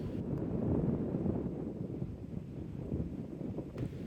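Strong gusting wind buffets the microphone on an exposed golf course, a steady low roar that swells and eases without a break, with no voices over it.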